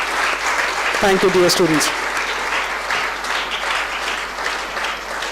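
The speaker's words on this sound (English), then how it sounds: "give a massive round of applause for yourselves" Student audience at a hackathon event giving a steady round of applause that fills the whole span, while someone speaks briefly over it near the start.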